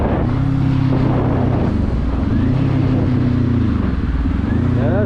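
Motorcycles ride together in high winds, including a heavier Harley alongside a Z400, their engines droning loudly with rising and falling pitch under heavy wind buffeting on the microphone.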